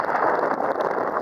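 Steady, roaring wind high atop the Castaway Building at Cabana Bay Beach Resort buffeting the microphone, a continuous broadband rush with no pauses.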